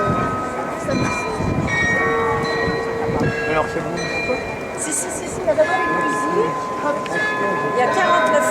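A carillon of 49 bells rings out a melody of overlapping pitched tones, with people talking nearby underneath the chiming.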